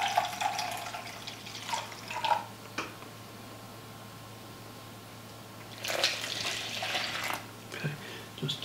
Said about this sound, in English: A little bit of water, I'll put that in blue.